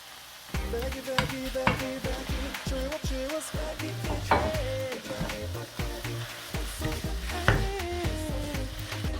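Vegan minced meat frying in a pan with grated lemon while being stirred, heard as a steady sizzle broken by a quick run of scraping, knocking strokes from the utensil, close and fairly loud.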